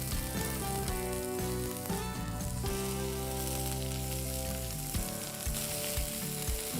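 Chopped onions hit a hot pan with curry leaves for bread and vermicelli upma, producing a continuous bright sizzle beneath prominent background music.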